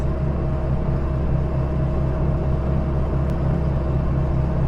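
A Polski Fiat 126p cruises at 100 km/h on a highway, its small engine a steady, loud droning rumble that fills the cabin without a break.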